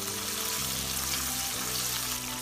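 Chili bean paste fries in hot oil in a wok, giving a close, even sizzling hiss that runs without pause and with no talk over it.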